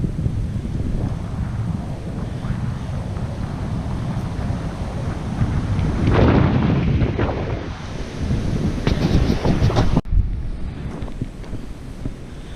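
Water rushes continuously through a mill race below a dam, a broad steady roar heard from nearby with wind buffeting the microphone, swelling in the middle and cut by a sharp bump.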